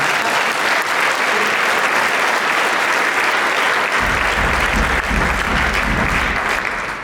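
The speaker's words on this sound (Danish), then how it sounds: "Prøv lige at klappe en gang" A concert audience at a pink charity concert, Lyserød Koncert 2025, claps loudly and steadily throughout, with a deep low rumble like stomping feet joining partway through.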